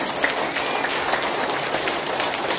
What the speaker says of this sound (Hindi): इस तरह से ताली बजाए